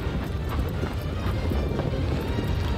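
Hooves pound continuously as a horse gallops through Shadow of the Colossus, a steady rhythmic drumming over wind-like rushing noise.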